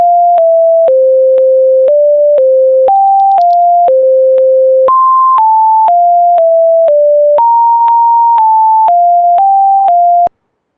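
A sequence of pure electronic beep tones, each held about half a second, stepping between pitches in a steady rhythm, loud and clean with no talk.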